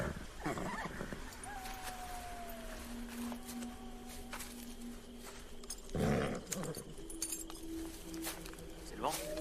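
Wolves in a French-dubbed western film, a few thin, wavering howls drifting in the distance at night, with brief louder bursts of movement and sound effects in between.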